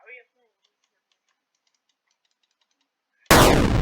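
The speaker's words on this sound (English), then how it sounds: "So, according to my friend Jack, if I shoot in the mirror..." A gunshot in the retro horror video game Faith: The Unholy Trinity bursts out loud and abrupt near the end, a harsh noisy blast that follows a long quiet stretch of faint ticking and a short voice at the start.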